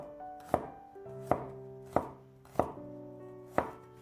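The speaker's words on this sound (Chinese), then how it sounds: "几瓣大蒜给它切成蒜片" Garlic cloves being sliced into thin pieces with a knife on a cutting board, about five crisp, evenly spaced chops ringing out alone at close range.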